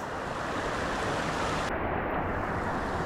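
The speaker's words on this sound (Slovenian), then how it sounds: "Najbolj divji slap na Azorih." Lombadas waterfall on the Azores thunders as a loud, dense, unbroken roar of falling water, steady from start to finish with no voices.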